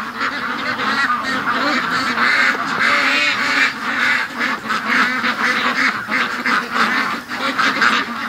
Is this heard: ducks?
yes